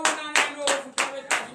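Four quick bursts of hand clapping in a steady rhythm, close and fairly loud, with no voices over them.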